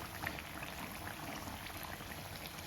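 Bajji fritters made from idli batter, tea-shop style, bubbling in hot oil: a quiet, even seething and fine popping that continues throughout with no talk.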